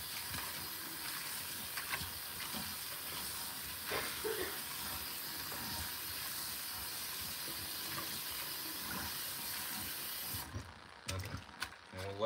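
Water runs with a continuous soft hiss, as if from a tap, while salt brine for kimchi is prepared. The flow stops abruptly near the end, leaving a few quiet kitchen clatters.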